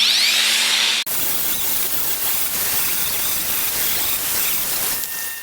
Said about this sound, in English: I'll take my grinder, take a bit of paint off.